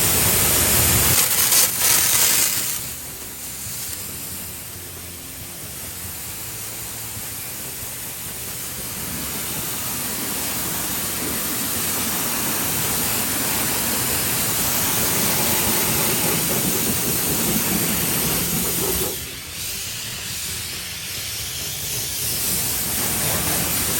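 A pressure washer sprays water while rinsing a car engine bay, a loud, continuous close hiss that shifts in tone as the nozzle moves, with brief changes when the spray is redirected.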